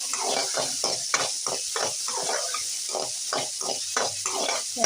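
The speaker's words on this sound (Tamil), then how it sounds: "சின்ன வெங்காயம் கட் பண்ணி வச்சுருக்கேன் அதையும் சேர்த்து நல்லா வதக்கிக்குவோம்" Shallots and mustard seeds sauté in hot oil for sambar, giving a steady close sizzle with rhythmic bursts of spattering and stirring throughout.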